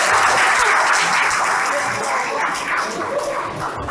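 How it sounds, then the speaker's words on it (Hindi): Dense, steady applause from a classroom of students clapping for a fellow student, loud and continuous throughout. "ताली हो जाओ भाई के लिए"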